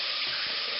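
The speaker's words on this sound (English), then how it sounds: "are you just emptying the water out?" Water from a tin of beans pours out in a brief, steady splashing rush, close and alone.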